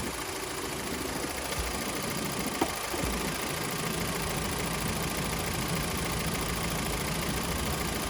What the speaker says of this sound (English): You can hear the ticking.